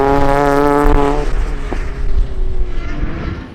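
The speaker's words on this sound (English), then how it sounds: "It's the MX5 PartsNI.com car of Gareth Stevenson, who's third fastest." A Mazda MX-5 rally car engine roars past at close range at a winter rally at Shackleton, Northern Ireland, strong harmonic whine that drops in pitch as it passes, then fades with a rough, rumbling tail.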